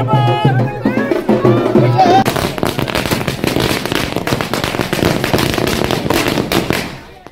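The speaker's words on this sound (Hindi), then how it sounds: "जेडीयू कार्यकर्ताओं ने ढोल बाजे के साथ आतिशबाजी की" Party workers setting off fireworks and firecrackers at a political celebration with drums, a loud close run of rapid crackling bursts that follows a stretch of voices and music and then fades out at the end.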